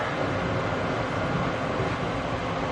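A train waits at a station platform, giving a steady, loud rumbling mechanical noise that holds even throughout without breaks.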